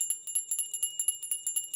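A Salvation Army handbell rings at a red kettle in a winter parking lot, struck in a quick, steady rhythm of bright metallic peals, about eight per second, loud and close with no voices.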